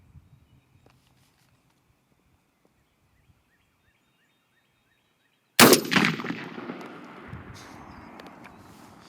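A single loud 12 gauge shotgun blast firing Longbeard XR number 5 shot cracks out sharply after near silence, followed by a long echoing rumble that slowly fades outdoors.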